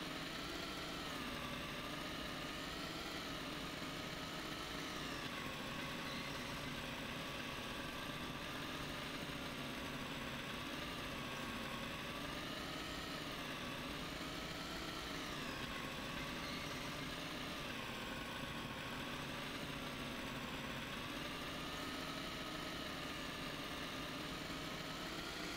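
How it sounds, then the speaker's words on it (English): A snowmobile engine in the video game Northern Lights, a steady, faint buzzing drone that hums on without a break and rises and falls gently in pitch. "I've ridden on many a snowmobile, and that skidding sound is wholly unique to this game."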